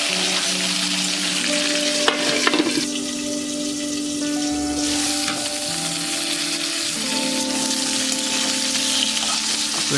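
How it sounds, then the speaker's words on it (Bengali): Potatoes, pointed gourd and tomato frying in a covered pan after a tempering of bay leaf and cumin, giving a steady, loud sizzle with occasional stirring clatter and a low hum throughout. "আলু, পটল, অল্প লবণ, দেন টমেটো অ্যাড করে ভালো করে মিক্স করে ঢেকে ঢেকে কিছুক্ষণ ভাজা হলো"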